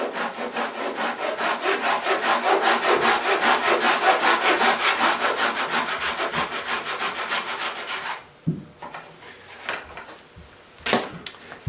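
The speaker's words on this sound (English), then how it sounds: "I'm just taking a very small saw that I've put a little saw kerf in here. I'm going to go ahead and cut those to size." A very small hand saw cuts wooden plugs to size, with fast, even back-and-forth strokes rasping steadily for about eight seconds, followed by a few scattered taps and handling noises.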